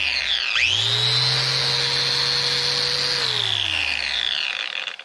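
Bosch 1375A 6 amp angle grinder with a 4.5 inch wheel spinning up, holding a loud, steady high-pitched whine for several seconds with no load, then winding down, close and with no talking.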